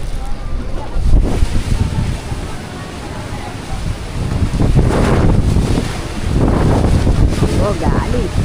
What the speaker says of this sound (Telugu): ఓ గాలి.